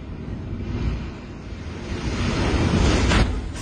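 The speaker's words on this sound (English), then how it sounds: "Civil storm Pierrick strikes the coast of Saint-Malo in Brittany, France, causing power waves the size of small tsunami" Storm waves surging against the Saint-Malo coast in Brittany during storm Pierrick, a continuous wash of surf and wind noise that swells louder toward the end, with no voices.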